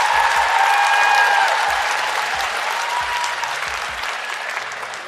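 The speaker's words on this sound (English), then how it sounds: "That needs another round of applause from all of y'all." Loud, steady applause fills the stretch, dense clapping with a faint tonal hum and low thumps underneath, easing slightly toward the end.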